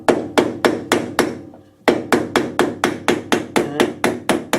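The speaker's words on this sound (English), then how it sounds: "I assume that when I hit the back of the spindle it will come out." Sharp hammer blows strike the back of a wood-lathe spindle to knock it out, a quick run of five evenly spaced loud hits, a short pause, then about eleven more in a steady rhythm, close and dry.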